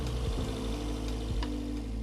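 A 1.2-litre Opel Astra with a flat battery is jump-started using a Gearo GE0101 jump starter, the engine turning over with a couple of cranking thumps and settling into a steady, close idle rumble.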